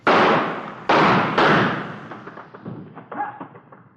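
A handgun thrown down onto the ground as an old-time radio drama effect, a few loud close thuds and a clattering skid that fade into smaller knocks, with no talking.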